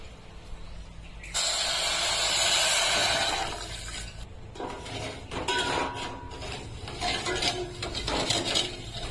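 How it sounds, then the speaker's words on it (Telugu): Water poured into a glass while making sugar syrup for badusha, a steady hissing pour of a few seconds followed by clinks and handling noises of a kitchen, with no talking. "గ్లాసులో సగం పోస్తున్న వాటర్"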